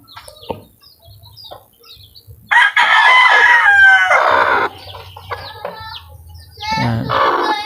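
Chickens with newly hatched chicks in a coop give loud clucks and a drawn-out crow, mixed with scattered high peeps and someone talking quietly between the calls.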